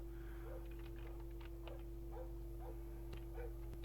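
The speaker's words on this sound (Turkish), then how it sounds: "Orada havlama oluyor." Dog barking in the stealth video game Splinter Cell, short muffled barks and yips repeating every half second or so, fairly faint and distant beneath a steady electrical hum, with no talking.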